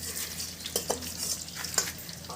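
Ash gourd fritters fry in a pan of oil with a soft, steady sizzle. Occasional light clinks and scrapes come from a utensil turning them, and the sound stays fairly quiet and close.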